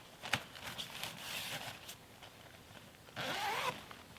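Zippers on a tent window curtain being opened during a solo wild camp in an Onewind Skyshade tarp tent, faint rasping pulls in short runs with quieter rustling between them.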